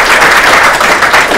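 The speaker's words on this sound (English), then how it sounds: "Let's have a round of applause again for Suzy, please." A short burst of loud, dense audience applause at a networking podcast event, steady clapping from many hands with no pause.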